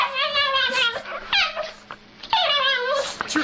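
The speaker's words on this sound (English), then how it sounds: "Trick question. It's a dog." A dog in a played recording lets out two drawn-out, whining, whimpering cries with a growly edge, separated by a short pause and fairly close and clear.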